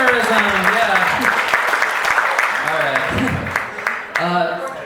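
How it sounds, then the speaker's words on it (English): Applause from a stand-up comedy club audience, with clapping mixed under voices and whoops that run throughout, briefly swelling again near the end. "everybody clap for the troops"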